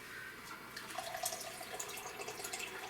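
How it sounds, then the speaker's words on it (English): Filtered water pouring into a container of long-term dry goods, a steady splashing trickle with some dripping, fairly close and quiet, with no talking. "I'm going to add some filtered water to this."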